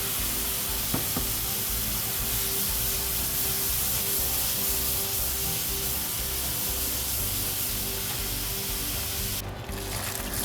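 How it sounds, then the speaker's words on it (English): Dry white wine poured over a sausage, pepper and mushroom mixture in a hot pan gives a loud, steady sizzle and hiss that continues unbroken throughout, with no talking. "deglaze this amazing mixture with white wine"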